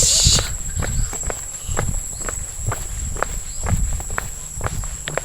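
Steady footsteps of a person walking to work outdoors, a regular crunching rhythm close by, with crickets or insects chirping continuously in the background and a brief voice near the start.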